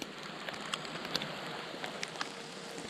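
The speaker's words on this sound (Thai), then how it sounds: "ทุกคนฝนก็มา อีกหน่อยจะหนักเลยนู่นนะครับ" Rain falls in the mountains of Khao Yai, Thailand, making a steady broad patter with scattered sharper drop ticks, close and moderately loud, with no voices.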